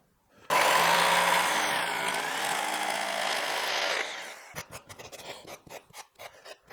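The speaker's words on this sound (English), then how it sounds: "Sand the dowel down a little bit." A wooden dowel is power sanded with a harsh, continuous rasping grind for a few seconds. It then breaks into a run of short, separate scraping strokes, close and loud.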